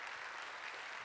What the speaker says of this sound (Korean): 우리 꽃다발 전해드릴 때 다 같이 한번 박수로 고맙습니다.